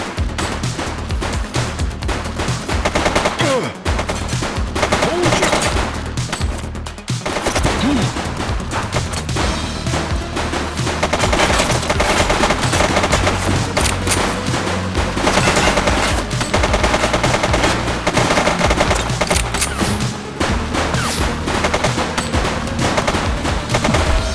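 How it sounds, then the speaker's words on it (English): Sustained loud rapid gunfire during a gang shootout in the video game The Precinct, dense overlapping bursts and shots with almost no let-up across the whole stretch. "He's shooting!"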